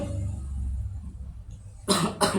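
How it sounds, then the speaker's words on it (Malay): Two short, harsh coughs come quickly one after the other near the end, close and fairly loud against a low background hum. "Batuk pula."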